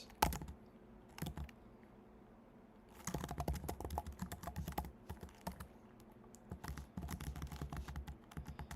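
Bursts of keyboard typing while coding on a computer, with quick irregular key clicks in short flurries separated by brief pauses, close and moderately loud with no talking.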